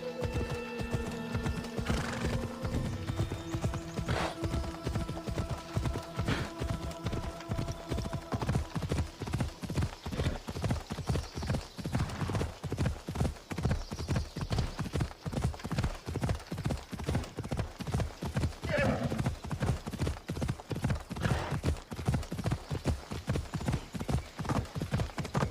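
A ridden horse galloping in Assassin's Creed Odyssey, a fast steady drumming of hoofbeats running throughout, loud and close, with a neigh early on and faint ambient game sounds behind.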